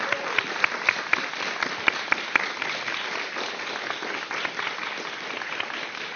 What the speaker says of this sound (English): Can we have a round of applause for Shamima Singh, Saskia Papadakis, Dale Ga